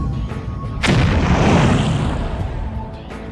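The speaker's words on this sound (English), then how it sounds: "on his command, the flames explode." Stage flames bursting up during a magic illusion, one sudden loud whooshing boom that roars on for a couple of seconds before slowly fading, with no talk.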